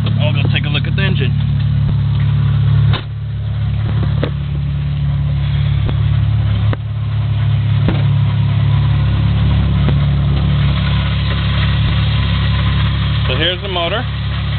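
A BMW M20 325e engine idles steadily close by, a low rumbling drone throughout, while a person talks over it and a brief clatter or thump breaks in near the start.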